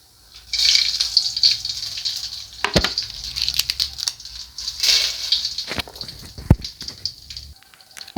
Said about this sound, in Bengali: এলাচ দারচিনি শুকনা মরিচ জিরা আর হলো তেজপাতা সবগুলো আমি ফোড়নে দিয়ে দেবো